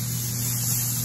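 Chicken sizzles in a hot cast iron pan, a steady, loud hiss with a low hum beneath and no talking over it.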